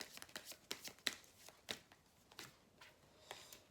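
An angel message oracle card is drawn from a deck, heard as a quiet series of close card flicks and slides, with no talking.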